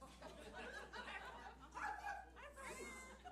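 Comedy show audience members call out mimicking dog barks and woofs, mixed with chatter and some laughter, fairly faint and distant.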